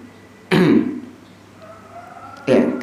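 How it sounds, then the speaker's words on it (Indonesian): A man clears his throat twice, two short raspy bursts about two seconds apart, close and fairly loud against a quiet room. "seperti seorang misalnya berdehem"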